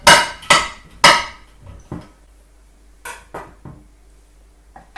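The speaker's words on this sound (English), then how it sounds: "I'm now just going to cut my chocolate down into slightly smaller pieces." A knife chops chocolate into smaller pieces on a hard board, producing sharp, close, loud knocks. The first three come evenly spaced, then scattered lighter taps follow, with no talking.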